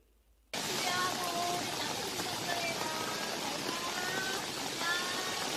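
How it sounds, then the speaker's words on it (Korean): Steady, dense rain from the July monsoon season starts abruptly and keeps a constant, loud hiss with scattered patters throughout, without any talking. "빗소리 한번 들어보실래요?"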